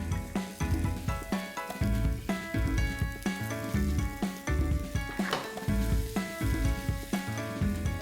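Green peas hit a hot pan for dry matar masala and sizzle steadily, with a fizzing crackle and occasional tosses, while music plays loudly underneath and nobody speaks.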